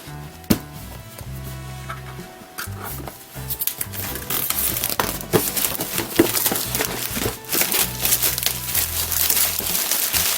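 The box of a 1964 1/2 Mustang Monogram/Revell 1:24 scale model car kit is cut open, with irregular close crinkling, tearing and cardboard scraping over soft background music and no talk.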